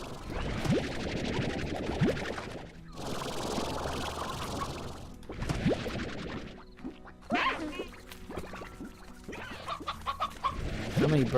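Hens in the video game Slime Rancher cluck in repeated bursts, close and moderately loud, with a short quiet gap between groups of clucks; a voice speaks briefly among them.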